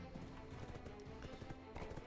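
Horse hooves clop in a steady trotting rhythm in the video game Black Desert Online, faint and continuous under game ambience.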